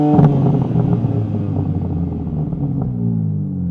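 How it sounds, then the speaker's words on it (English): Stationary car engine revved hard toward its limit with no soft limiter, a loud, close rumbling drone that holds high and strained, then settles back toward idle near the end. "you can rev the engine all the way up when you're stationary"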